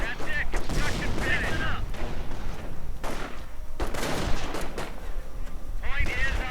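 A German mortar half-track fires in a World War II strategy video game, with repeated loud booming shots and rumbling explosions that continue steadily throughout the clip.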